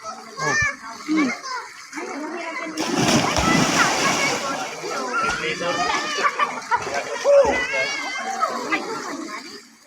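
Water splashes loudly as people plunge in, with children shouting and talking excitedly close by throughout.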